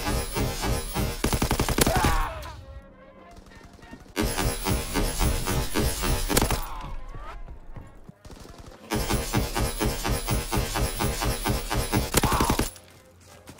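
Rapid bursts of gunfire in a Call of Duty match, loud fast automatic volleys in three long stretches separated by brief quieter pauses.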